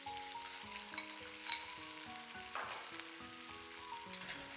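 Pork ribs stir-fried over high heat in a wok with ginger, garlic, onion and sauce sizzle loudly and continuously, with stirring scrapes and bursts of crackle throughout.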